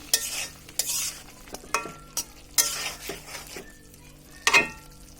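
Sweet pumpkin cooking with prawns is stirred in a pan over medium heat: a series of scraping spoon strokes, some sharp and close, over a faint low sizzle.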